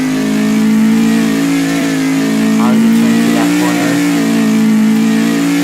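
A Lada car engine in a video game drones loud and steady, revving slightly as it holds a constant pitch, while someone talks over it.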